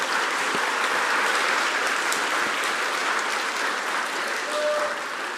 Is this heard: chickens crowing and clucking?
no